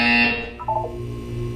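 A buzzer sounds in the Portal 2 video game, one sharp, loud electronic tone at the start that fades into a short chime and low room hum.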